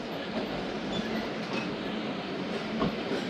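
Thal Express passenger train running on the rails between Kundian and Sher Shah, a steady low rumble of wheels and carriage noise from on board, with faint rhythmic clatter throughout and no voices.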